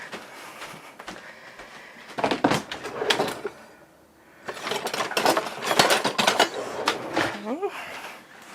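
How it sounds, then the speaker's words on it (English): Clattering and rummaging at a kitchen drawer as a spatula is pulled out for mixing Instant Pot chocolate cake batter: a couple of loud bursts of rattling utensils and drawer knocks, close by, with a brief voice near the end. "Just grab a spatula."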